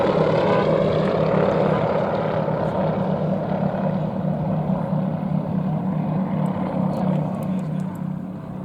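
A Yak 18T propeller aircraft flies at an air show, its engine a loud, steady droning hum that holds nearly constant throughout and eases slightly at the very end.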